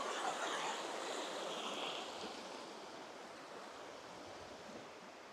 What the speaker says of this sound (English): First glimpse of the River Wye.